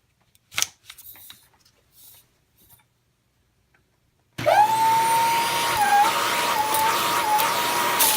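A Dyson DC25 upright vacuum cleaner switches on abruptly after a few quiet knocks and handling sounds, then runs with a loud, steady roar and strong suction.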